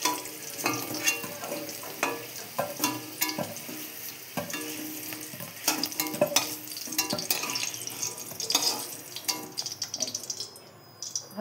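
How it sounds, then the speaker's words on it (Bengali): Food seasoned with salt and turmeric sizzles in a pan as it is stirred, with steady frying hiss, repeated scraping and clinking strokes, and a few watery drips. "এটা ভাজা হয়ে গেছে, এবার তুলে নিব।"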